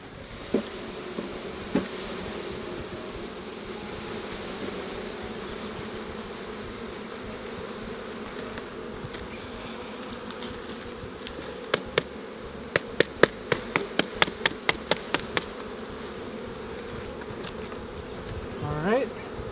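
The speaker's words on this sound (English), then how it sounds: "pour in the bees" A dense, steady buzz of many Carniolan package bees being poured into a hive, with a quick series of sharp knocks partway through.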